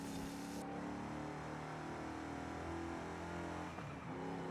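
Turbocharged Pontiac engine in Forza Horizon 5, a steady loud droning engine note with a bright hissing whoosh of the turbo at the start, sustained throughout.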